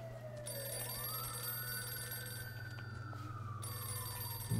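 An in-game telephone rings in the 1940s-50s crime world of Mafia 2 (Definitive Edition), a steady electronic trill sounding continuously and fairly loud for several seconds over a low room hum, with no talking.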